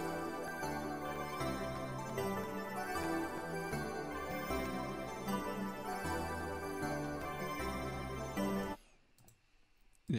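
A dense, steady Dune synth melody with layered chords plays continuously, then cuts off abruptly near the end, leaving brief quiet.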